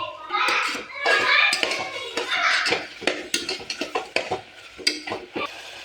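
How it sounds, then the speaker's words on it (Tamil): Tomato rice with mint and coriander stirred in a pan: brisk scraping and tossing strokes over a light sizzle, close and fairly loud, with a voice briefly audible in the background. "இப்போ நல்லா கலந்து விட்டுருங்க"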